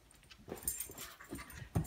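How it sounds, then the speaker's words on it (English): A medium-sized puppy whimpers softly nearby in short, quiet whines spread irregularly, ending in a slightly louder yip-like sound at the close. "This is our puppy Guinness."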